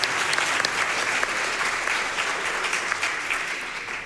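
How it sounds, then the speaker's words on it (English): Audience applause after a Half-Life 2 speedrun race at Summer Games Done Quick 2024, a dense, steady clapping from a large crowd that fades slightly toward the end. "let's give another round of applause for Dirtch and Eold for that incredible race"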